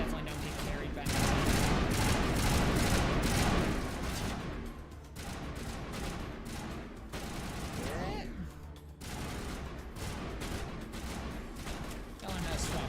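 Sustained video-game gunfire from Mass Effect, loud and dense bursts rolling almost continuously with occasional booming hits, while a player talks over the combat.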